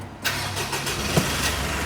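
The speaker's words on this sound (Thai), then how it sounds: "เหยียบเบรกแล้วกดปุ่มสตาร์ทได้เลย" Mitsubishi Triton Plus Athlete 2.4 GLS automatic pickup starts by push button: a quick crank catches into a close, steady idle that continues for the rest of the short moment.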